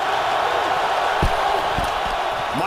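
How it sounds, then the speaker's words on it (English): Crowd noise rises at an NFL football stadium during a 2011 Atlanta Falcons versus Detroit Lions game, a loud, steady roar filling the space with a few thuds, under faint commentary. "Here comes the crowd noise."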